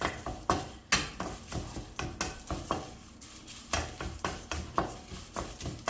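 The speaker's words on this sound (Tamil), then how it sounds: "இந்த கடாயோட சூட்லேயே மீதி வறுத்துடலாம்" Sesame seeds being roasted and stirred in a hot kadai: constant crackle and scraping of a spoon against the pan in quick repeated strokes, close and moderately quiet.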